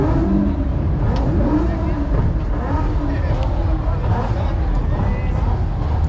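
A fast Toyota Supra race car drives past at a Houston cars and coffee meet, its engine roaring steadily up close through the whole moment while crowd chatter and voices carry underneath.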